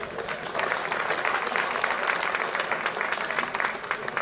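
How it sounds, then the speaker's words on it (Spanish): Audience applauding after a fencing demonstration at a historical reenactment, a sustained burst of many hands clapping in a hall, dense and steady, with faint crowd murmur underneath. "por favor, un aplauso para Cristina"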